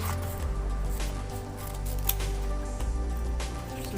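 Scissors snip through paper while cutting out shapes for a giant paper flower, a few close crisp cuts over a steady low hum, with no talking.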